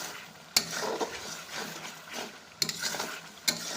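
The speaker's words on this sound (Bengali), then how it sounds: "একটু নাড়িয়ে চাড়িয়ে নিতে হবে" Spices being stirred with Kashmiri chilli in a pan, giving soft sizzling frying under three sharp scrapes or clinks of a spoon against the pan, close and fairly quiet.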